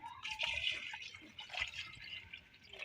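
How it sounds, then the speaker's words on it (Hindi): Water pours steadily into a cooking pot holding large trotters for Lahori paaye, a close, continuous splashing and trickling with no talking. "ये देखिए तो पानी हम थोड़ा ज़्यादा ही डालेंगे फ्रेंड"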